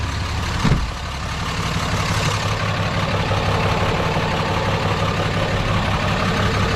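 A Ram truck's diesel engine idles steadily just after a fuel filter replacement, a continuous low rumble that stays loud and even throughout with one brief knock near the start and no talking.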